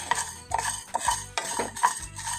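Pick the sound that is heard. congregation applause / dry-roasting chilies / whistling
dry-roasting chilies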